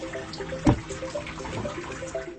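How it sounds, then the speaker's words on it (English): Water in a homemade hydroponic system, pumped up to the plants and draining through a filter into a bacterial biofilter, trickles and splashes close by, with one sharper plop partway through. "This water is pumped up to feed the plants, and it goes down through this filter back into the biofilter."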